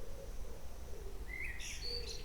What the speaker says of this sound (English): our birds start making noises